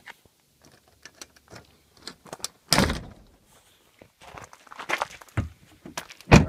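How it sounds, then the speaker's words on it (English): A building door being closed and locked outside: scattered close knocks and clicks, one heavy thud in the middle, then more rattling handling and footsteps, with no talking. "I'm just going to lock up the door here."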